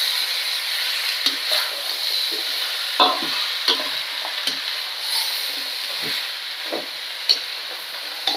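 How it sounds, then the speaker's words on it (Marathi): Mixed vegetables, potato, carrot, brinjal, ber and broad beans, stir-fried in a pan, with a steady sizzle broken by repeated scraping strokes of the spoon at an irregular rhythm, close and alone without talk. "तर हे बघा आता छानपैकी ह्या 1-2 मिनिटं भाज्या छानपैकी परतून घेऊया आपण."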